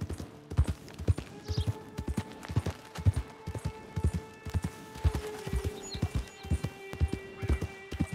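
Horse hooves clip-clop in steady, evenly spaced beats on the Great Plains among wild horses in the video game Red Dead Redemption 2, loud and close with no voices over them.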